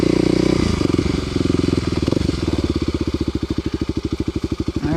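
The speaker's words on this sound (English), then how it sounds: "I can just give a little bit of throttle and it's got all the extra grunt I need." Kawasaki KLX250sf motorcycle engine, close and loud, rising under throttle and then settling into a rhythmic, pulsing thump that slows toward the end.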